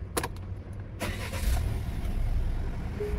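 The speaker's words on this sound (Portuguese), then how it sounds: "Fiat Titano Vulcano em funcionamento 2025." Engine of a 2025 Fiat Titano Volcano pickup running at idle, a steady low rumble with a few brief higher clicks near the start, fairly close and with no talk.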